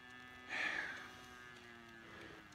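A cow with twin calves on a cow-calf grazing operation gives a single mid-loud moo, with a fainter answering call from farther off and a steady mechanical hum underneath.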